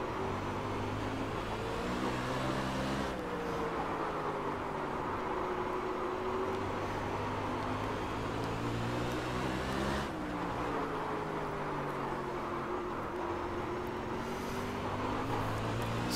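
Sprint car engine in iRacing at South Boston, a steady loud drone with rising and falling pitch sweeps as the car laps, continuous throughout with no talk.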